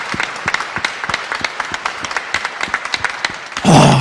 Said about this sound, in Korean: 감사와 영광의 박수를 내가 드릴 수 있는 최고의 박수를 한번 드립니다